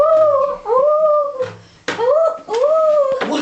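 A human voice imitates a wolf, giving four rising-and-falling howls in quick succession, close and clear, with short breaths and small sounds between them.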